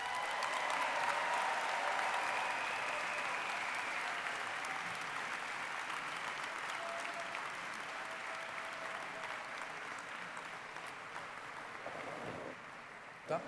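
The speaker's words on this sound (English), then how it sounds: "So how about one more round of applause for all the graduates?" Crowd at an undergraduate commencement ceremony applauding the graduates, broad sustained clapping that slowly thins and fades toward the end, with a faint voice and a small bump at the close.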